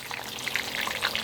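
Battered elephant ear fish deep-frying in hot oil, a dense crackling sizzle with brief bright pops throughout, steady and close with no talk.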